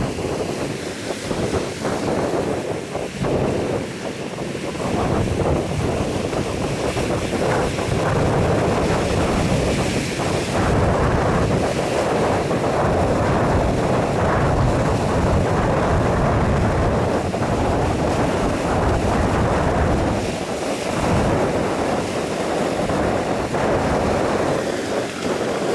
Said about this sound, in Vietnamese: vô sóng xuôi gió xuôi luôn